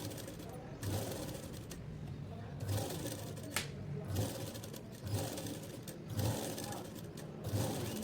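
Sewing machine stitching a blouse, running in repeated bursts of steady rapid stitching separated by short pauses, close and fairly quiet, with a voice talking over parts of it.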